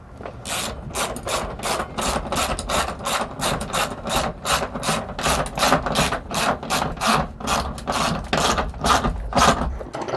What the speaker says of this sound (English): Then you can go ahead and tighten these down.